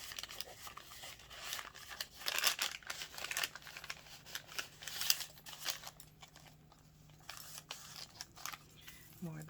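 Coffee-dyed paper handled for a nature remedies journal: soft crinkling, rustling and light tearing sounds, close and fairly quiet, scattered irregularly throughout.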